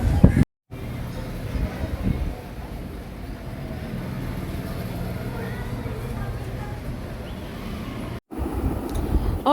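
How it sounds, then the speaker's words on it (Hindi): Steady outdoor wind buffets the microphone as a continuous low roar, loud and close, with a couple of brief dropouts. "काफ़ी अच्छी हवा चल रही है यहाँ पर"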